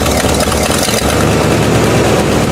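A Buick car engine idling after repair with a leaking exhaust manifold gasket, a loud, close, steady rumble that stays even throughout with no talking over it.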